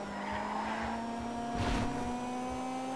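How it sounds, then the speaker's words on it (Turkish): A Honda Civic in GTA 5 runs at speed with a steady, loud turbo engine drone, a constant high whine over it and a brief louder swell in the middle, and no talk. "Turbonun sesini duyuyorsunuz değil mi?"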